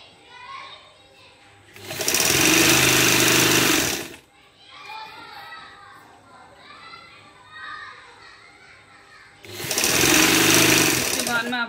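A sewing machine stitches a strip of trim onto a shirt in two loud, steady bursts of rapid whirring. Someone talks in the quieter gap between them.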